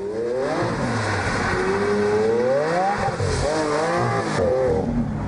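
Lamborghini driven hard on a public road, its engine revving up and down in repeated rising and falling sweeps, loud and close throughout, with gear changes breaking the climbs.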